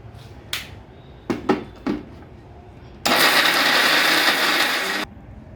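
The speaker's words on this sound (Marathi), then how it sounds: "आता आपण हे मिक्सरमधून काढून घेऊया" A kitchen mixer grinder blending a jaggery filling for gulpoli, heard as a few short, separate bursts followed by one steady, loud whirring grind of about two seconds that then stops.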